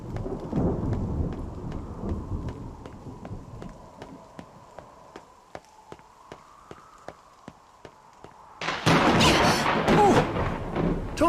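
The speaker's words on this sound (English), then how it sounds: "We got thunder coming." Rain hisses steadily in NieR Re[in]carnation, with faint regular ticks, before a sudden loud, close crack of thunder breaks out near the end and rumbles on.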